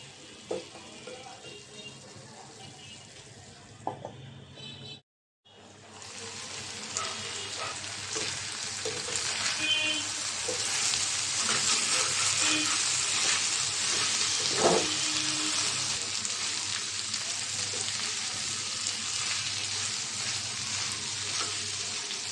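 Bitter gourd (karela bhaji) frying in a pan sizzles steadily and fairly close. After a brief pause it comes back louder and keeps up a dense, continuous crackle with occasional stirring knocks.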